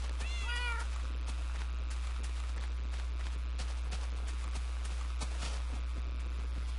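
Minecraft cats give a clear high meow near the start, then another fainter mew later, over a steady game background with soft clip-clop-like footsteps.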